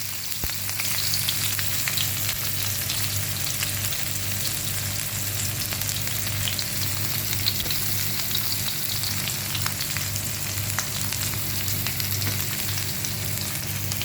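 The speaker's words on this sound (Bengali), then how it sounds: "এবার এটাকে লাল করে ভেজে নেব।" Chopped onions fry steadily in a pan, a continuous dense sizzle with a low hum underneath and no talking, holding even and close for the whole stretch.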